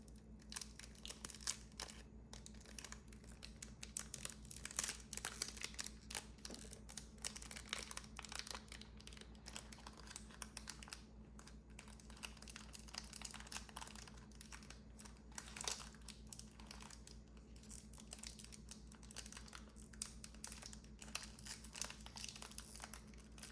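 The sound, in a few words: plastic packaging crinkling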